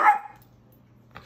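A nine-month-old Maltese gives one short, sharp bark close up, followed by a faint low hum and a small trailing sound.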